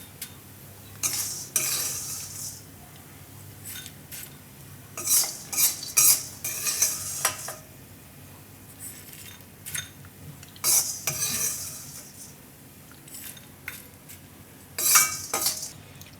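Jamun seeds roast dry in a pan for a Gujarati mouth freshener, a spoon scraping and clinking against the metal in irregular bursts, with quieter gaps between stirs.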